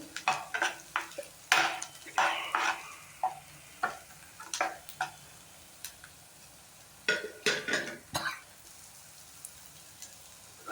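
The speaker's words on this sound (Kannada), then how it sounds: "ಅದಕ್ಕೆ ಇವಾಗ ಒಂದು ಹೆಸರು ಕರಿಬೇವನ್ನ ಹಾಕ್ಕೊಂಡಿದ್ದೀನಿ. ಸೊ ಚೆನ್ನಾಗಿ ಅದನ್ನು ಕೂಡ ಬಾಡಿಸ್ಕೊಳ್ತಾ ಇದ್ದೀನಿ." Curry leaves frying in a pan while being stirred, cooking for a Kannada chavalikayi palya: scattered spatula scrapes and clatters over a faint sizzle, close and fairly quiet, with irregular bursts and pauses between them.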